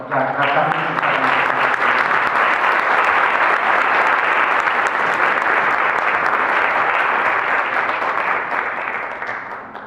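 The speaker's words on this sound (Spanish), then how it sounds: "Yo les quiero pedir un aplauso para que la doctora" An audience applauds a female doctor at a talk, sustained dense clapping from many hands, loud and steady for several seconds before fading slightly at the end.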